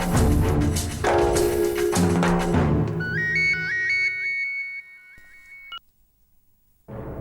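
Outgoing phone call ringing back in a tense household scene: a dense background fades as a repeating electronic ring pattern emerges, steady and moderately loud, then cuts off abruptly into near silence.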